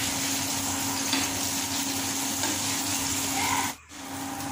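An egg fries in a pan in a home kitchen, a continuous close hiss and crackle of hot oil held steady, with a brief dip near the end as if the pan is moved.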